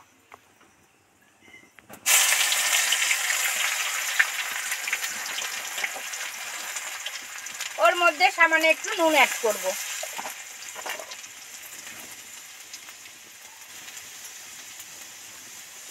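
Crushed garlic hits hot oil in a pan while preparing a Bengali snake gourd vegetable dish, setting off a sudden loud, steady sizzle that slowly fades. A person speaks briefly over the frying.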